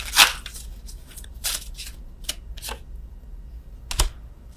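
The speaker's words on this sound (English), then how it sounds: "I'm shuffling these cards again" Tarot cards being shuffled close by, quick papery riffles and slides in uneven bursts with a sharper snap near the end, heard alone without talk.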